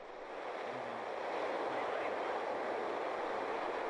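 Soyuz-U rocket engines igniting at launch of a Progress MS-05 cargo craft, a broad steady roar that swells quickly and holds loud and dense throughout, with no voices.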